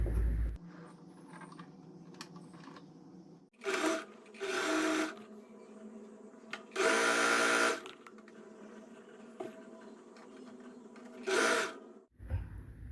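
Sewing machine stitching along the folded hem of a saree, running in several separate bursts of about one to two seconds each with quiet pauses between, close and fairly loud.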